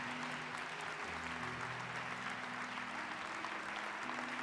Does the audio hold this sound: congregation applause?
yes